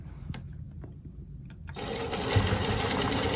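A longarm quilting machine stitching in the ditch on a pieced quilt, starting with faint clicks, then whirring into a steady, fast, close mechanical hum of stitching.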